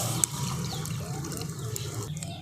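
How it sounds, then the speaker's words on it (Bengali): Milk poured into a frying pan: a steady, close liquid pour with a soft trickling wash running throughout, fairly quiet and alone. "এবারে আমি দুধটা কড়ার মধ্যে দিয়ে দিচ্ছি।"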